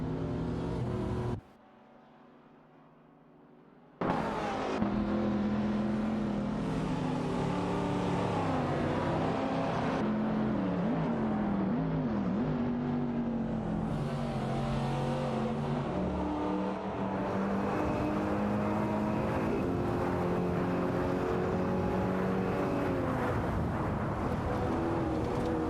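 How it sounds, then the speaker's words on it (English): Race cars in an AI racing video game, engines droning and revving close up as they weave through turns, with pitch rising and falling over a steady mechanical hum and one brief dropout near the start. "The cars are weaving through turns like they're a dance party."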